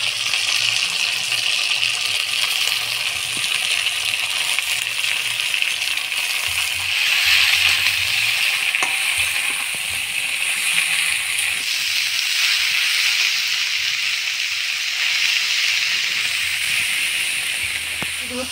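Potato pieces and cabbage fry in hot tempering oil with ginger and cumin paste, giving a loud, constant sizzling hiss with faint stirring knocks underneath throughout.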